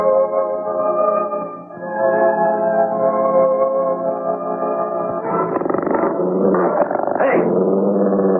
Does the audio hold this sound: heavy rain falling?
no